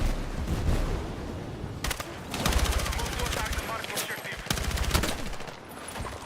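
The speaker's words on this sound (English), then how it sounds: "What am I even shooting at?" Battlefield 6 gunfire: dense bursts of automatic rifle fire crackle in rapid streams, loud and close, with explosions and battle noise around them and a voice speaking over the shooting.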